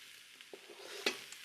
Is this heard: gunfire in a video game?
no